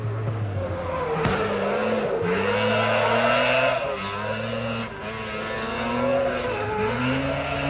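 Rally cars lap a tricky bitumen circuit in a 1983 NSW Rally Championship event, engines revving and changing gear repeatedly over several seconds at moderate distance.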